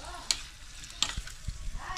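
Soy-sauce octopus adobo stirred in a hot pan, with close spoon scrapes and taps over a soft continuous sizzle.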